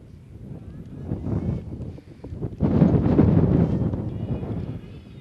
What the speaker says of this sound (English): So the wind's back, blowing out.